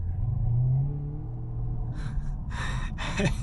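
An HSV WN Grange car driving, its engine a low steady rumble from inside the cabin, with a few short breathy bursts near the end.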